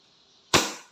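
A WE 2011 Hi-Capa T-Rex airsoft pistol fires once, a sharp loud crack with a brief decaying tail as the slide opens, after a faint quiet lead-in.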